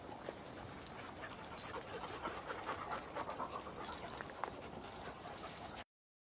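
Rapid, breathy panting from a small dog and a big dog at close range, with scrabbling paws and a few soft thumps as they romp, no talking.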